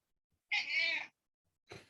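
A cat meows once, a clear drawn-out call lasting about half a second, followed after a pause by a shorter, rougher second cry, close by against a quiet background.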